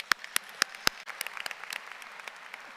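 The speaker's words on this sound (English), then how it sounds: "Can we give them a round of applause really quick?" An audience at a Thomas Dale High School graduation ceremony applauds: a few loud, close individual claps open, then a thinner, fainter scatter of clapping carries on beneath.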